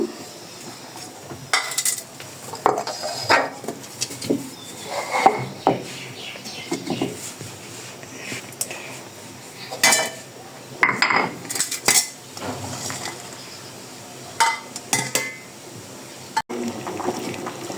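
Ginger and green chillies ground into a paste on a grinding stone, heard as irregular close scraping and knocking strokes with clinks of metal utensils, loud then quieter, with no talk.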